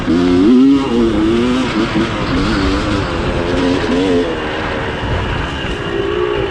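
A motorcycle engine idles and revs on a Saturday morning ride, with a loud, close throaty rumble that rises in pitch early on and then settles into a steadier drone.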